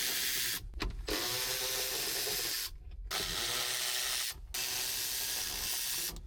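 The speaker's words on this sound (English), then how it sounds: "Then I go around and remove all of the bolts that hold this top cover in place." A power tool runs in long loud stretches, broken by three brief pauses, while removing the bolts from the top cover of a Kubota skid steer. The whirring is close and steady, with no speech.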